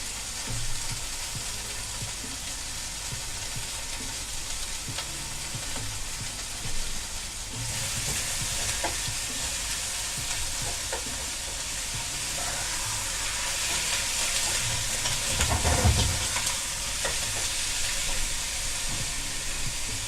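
Food frying in a pan on a home stove, a steady soft sizzle with scattered pops and crackles throughout, growing slightly louder toward the end, with no talking.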